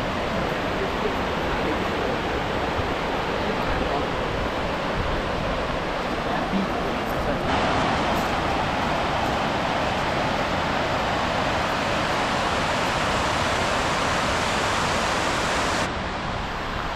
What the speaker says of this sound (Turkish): Bakın bu sıralı şelalelerden bir tanesi burada. İsmi Hestavatsfoss